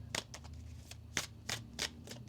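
Tarot cards being shuffled by hand, a quick series of crisp riffling bursts and soft taps, close and clear over a faint low hum.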